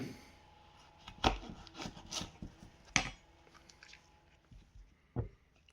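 A knife slices through an Aji Dulce chili pepper on a board, giving a few crisp, close cuts spaced irregularly, with quiet gaps between them.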